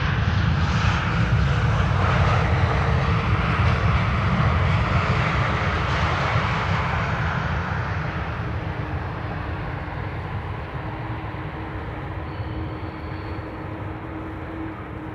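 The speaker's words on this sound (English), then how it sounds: "Transavia A321 Neo. Flight 5132 arriving from Barcelona." A Transavia Airbus A321neo on arrival at Amsterdam Schiphol from Barcelona roars loudly as it passes. The jet noise then slowly recedes and thins into a fading rumble, with a faint whine lingering.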